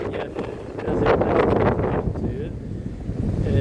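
Strong wind roars and buffets the microphone continuously in İznik, Turkey, a dense low rumble with a muffled voice partly buried beneath it.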